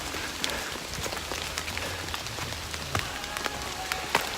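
Rain falls steadily on a rocky hiking trail at Blue Ridge Gap on a wet January day, a constant close hiss dotted with sharp scattered drips and taps, with no voices.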